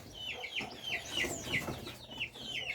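Six-week-old Black Giant chickens clucking in a steady, close series of short calls, several birds overlapping with a faint farmyard background.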